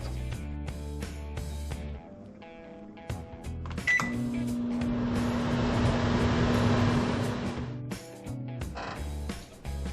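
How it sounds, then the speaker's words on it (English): A microwave oven hums steadily for several seconds while poaching an egg, starting and stopping with clicks and beeps, surrounded by quiet music. "Place the egg in the microwave and cook for exactly 60 seconds."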